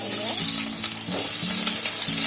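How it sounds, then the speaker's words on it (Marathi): Sliced onion dropped into hot oil in a pan, sizzling loudly and continuously up close with some stirring, no talk. "आपलं तेल तापलंय, त्याच्यामध्ये हा कांदा टाकते"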